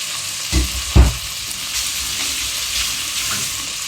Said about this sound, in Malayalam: ഇനി ഇത് നല്ല രീതിയിൽ വഴറ്റിയെടുക്കണം.